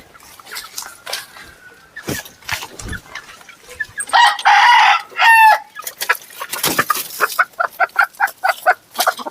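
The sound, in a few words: rooster crowing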